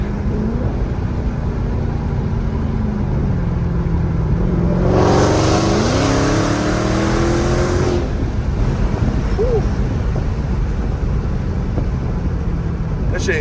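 A Dodge Hellcat with a newly fitted aftermarket exhaust accelerates with a rising engine roar that swells for a few seconds over constant road and cabin noise, heard from inside the car while people talk.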